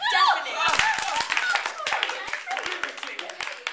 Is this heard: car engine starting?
no